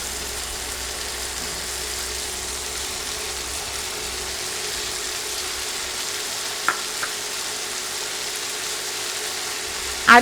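Yardlong beans and potatoes fry in a pan with a steady, even sizzle heard close up, broken by a couple of brief clinks near the end.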